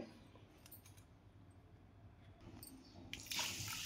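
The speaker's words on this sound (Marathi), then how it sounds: "मी 2-3 पाण्याने छान धुवून टाकले।" Rice being washed for appam batter: water sloshes and swishes as the grains are rubbed and stirred by hand, ending in a brief louder splash as the water is poured or drained.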